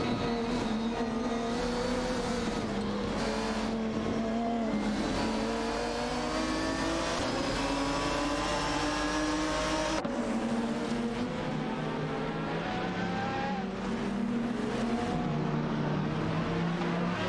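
Race car engines in an AI racing video game drone and rev without a break, their pitch rising and falling with gear changes, loud and continuous throughout.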